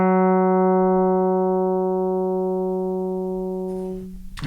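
A steady sustained note from a Groove Synthesis 3rd Wave synthesizer with rich even harmonics, holding for about four seconds before stopping, with a small audible click as the sound cuts off.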